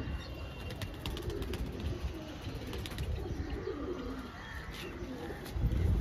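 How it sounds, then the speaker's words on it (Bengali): Pigeons coo softly and repeatedly over a steady background hum, with a few faint chirps mixed in. "পায়রার জোড়াটি দেখে নিতে পারেন"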